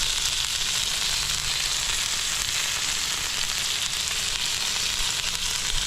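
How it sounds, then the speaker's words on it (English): A heavy tomahawk ribeye steak searing on a grill, giving a steady, even sizzle and crackle throughout at moderate level. "I'm gonna sear the other side of it."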